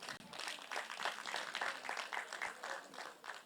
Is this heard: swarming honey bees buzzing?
no